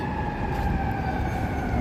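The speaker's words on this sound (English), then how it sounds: "Sirens." A distant emergency siren wails over steady downtown Chicago traffic rumble near the Chicago Theater, with a sustained tonal whine throughout the short stretch.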